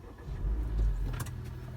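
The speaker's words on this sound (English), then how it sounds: "So if I was to start the engine" Blue Honda HR-V engine starting, a short cranking burst settling into a low idle rumble, close by with a brief higher clatter near the end, no talk.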